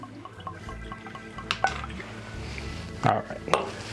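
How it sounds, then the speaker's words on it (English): Old Forester 86 bourbon poured from an older bottle into a glass: a soft trickle and drips with light glass clinks and knocks, fairly close, and brief murmured voices in the background. "Hefty pour. Yeah, it's Old Forester 86."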